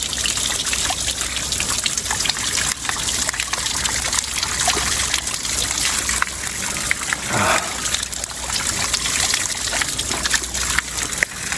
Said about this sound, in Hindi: तो ये है वो नेचुरल पानी का सोर्स।